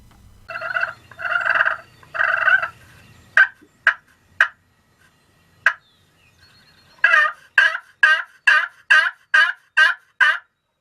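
Wild turkey gobblers call in central Missouri hunting country: a few long rolling gobbles, then a quick series of sharp, loud, fairly close gobbles in rapid rhythm.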